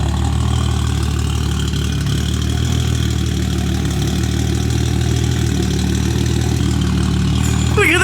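A Toyota Supra engine fitted with HKS cams idles steadily and close by, a continuous low rumble with a faint high chirp near the end.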